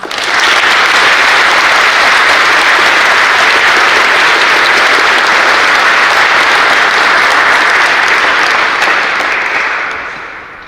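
Loud, sustained audience applause for National Honor Society inductees at a high school induction ceremony, a dense wash of clapping holding steady for about ten seconds before tapering off at the end.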